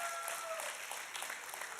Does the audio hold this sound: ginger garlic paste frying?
no